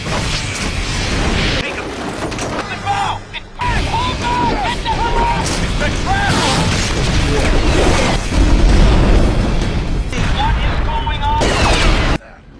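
Film explosions tear through shipping containers and a ship in a sustained, dense barrage of loud booms and crackling blasts with rumbling debris, continuing for several seconds under a dramatic soundtrack.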